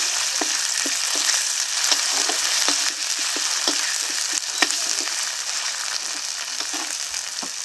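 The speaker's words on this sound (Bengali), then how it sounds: "এখন মশলাটাকে ভালো করে কষিয়ে নিচ্ছি।" Spice paste of ground onion, cumin, ginger, garlic and green chili with Kashmiri chili powder, salt and turmeric sizzles steadily in hot oil for rohu fish kalia, with regular scraping stirs throughout and no talk.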